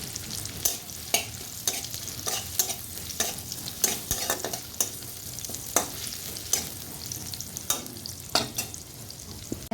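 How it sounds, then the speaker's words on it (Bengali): Burmese greens frying in a pan, a soft continuous sizzle broken by repeated sharp scrapes and clatters of a spatula stirring at an uneven rhythm, close and unaccompanied by speech. "আমি বর্মা শাক ভাজা করবো।"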